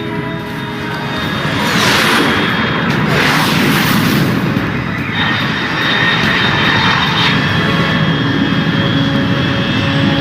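A fast aircraft in a Metal Gear Solid Delta cutscene roars overhead, loud jet rumble swelling and passing for about ten seconds with sustained high-pitched whoosh, no voices.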